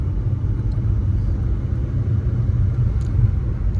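A car driven on a Tamil Nadu family trip produces a steady, loud low engine rumble from inside the cabin, with no distinct gear change standing out and no talk.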